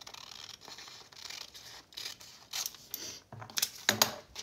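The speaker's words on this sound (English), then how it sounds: "So now I'm just going to cut it down through there" Scissors cutting down through a small paper bag for a junk journal tag pocket, giving soft scratchy snips and rustles close by, growing louder and crisper toward the end.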